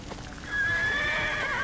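A horse mount in the online fantasy game Neverwinter whinnies loudly, a drawn-out, wavering neigh that rises after a soft start and holds steady to the end, with faint hoof clip-clop beneath.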